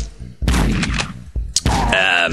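Bursts of video game gunfire from Deathbrush, loud and close, come in a few sharp volleys with thuds and a short tonal effect near the end.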